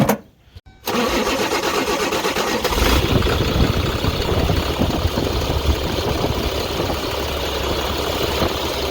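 A Caterpillar diesel engine with a blown head gasket cranks briefly, then catches and roars into a loud, steady idle that runs on close by.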